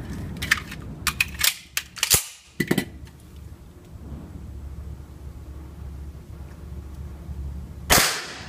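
Wax .45 ACP rounds fired from a custom Colt 1911 rail gun give a rapid string of sharp, light pops with cracking snaps early on, then a quieter lull and a final louder crack near the end.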